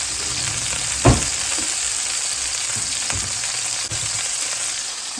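Fries bubble in hot oil with a loud, continuous sizzle, punctuated by a few knocks and scrapes as they are moved about, with no one speaking.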